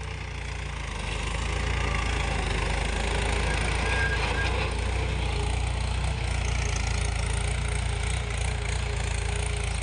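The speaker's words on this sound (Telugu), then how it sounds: "ఇప్పుడైతే చూడండి ట్రాక్టర్ ఎలా దున్నుతున్నారు" A tractor ploughing a field where ragi is being sown, its engine running steadily and loud close by for the whole stretch, a continuous mid-pitched drone with little variation.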